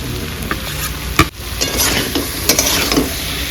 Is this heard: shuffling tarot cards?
no